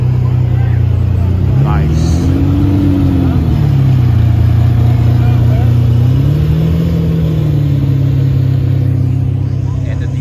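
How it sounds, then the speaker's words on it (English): A Lamborghini Countach supercar pulls away with a loud, near engine drone that rises and falls through two gear-like sweeps, while a voice speaks briefly over it. "Oh, the Countach is heading out."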